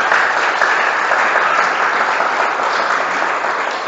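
A church congregation at a Sunday worship service applauds, a dense, loud, continuous clapping that holds steady throughout.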